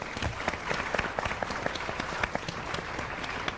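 Studio audience applause on a Pakistani morning talk show, lively clapping with distinct sharp individual claps popping out over a continuous bed of crowd noise, fairly close and steady.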